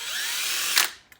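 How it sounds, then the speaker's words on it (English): A power drill with a bent bit whines steadily and loudly for under a second, then spins down abruptly, followed by a faint click. "so that drill bit was bent, so I went and grabbed another one."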